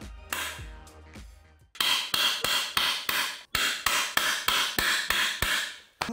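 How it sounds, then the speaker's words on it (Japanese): Impact driver loosening Phillips screws around the oil pump gear of a Kawasaki GPz motorcycle engine, in two rapid bursts of about eight sharp, evenly spaced hammering clacks each, loud and close, after a brief softer rattle. "このプラスネジ、普通に回せば舐めてネジ穴が潰れてしまう罠なんですが、インパクトドライバーを使って回せば一コロです。"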